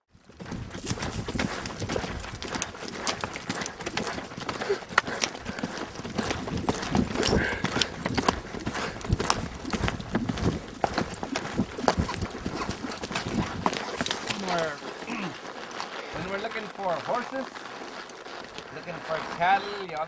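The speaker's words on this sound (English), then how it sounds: "I'm on horseback here." Horses' hooves clip-clop steadily as a rider travels on horseback through a wild-horse valley, a continuous rhythm of close hoof strikes mixed with talk throughout.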